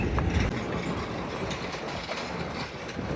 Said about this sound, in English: This is the train that you can ride all the way from Williams up here to the Grand Canyon.